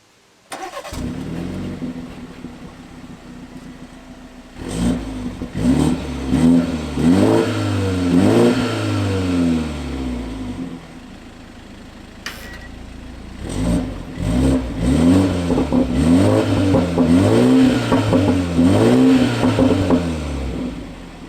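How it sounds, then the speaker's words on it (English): A BMW 330i (G20) engine starts and revs repeatedly, climbing and dropping in pitch, with exhaust burbles in Sport Plus mode between two bursts of revving, close and loud. "So with Sport Plus, you do hear the burbles just a smidge louder."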